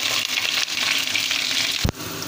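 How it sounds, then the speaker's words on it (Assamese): Potatoes fry in hot mustard oil with a loud, steady sizzle and crackle, close by, broken by a brief sharp clatter near the end. "তেলখিনি পূৰা গৰম হোৱাত আমি আলুখিনি ভাজি ল'ম।"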